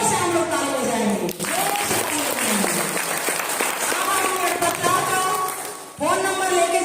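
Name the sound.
audience clapping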